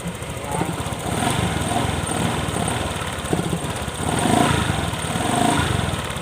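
A Honda Click 125 scooter with a sticking throttle and stiff throttle valve runs close by after starting, a steady rapid putter that swells a little in the later seconds.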